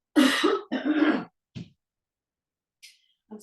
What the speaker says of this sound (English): still having a little coughing